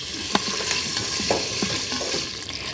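Pancetta crisps in an Instant Pot on its sauté setting, giving a dense, close, continuous sizzle with a few soft knocks and stirring scrapes scattered through it.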